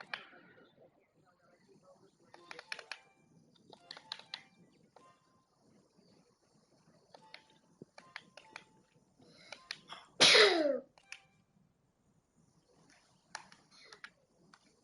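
A single loud, close sneeze bursts out midway through quiet computer keyboard and mouse clicking during a game stream.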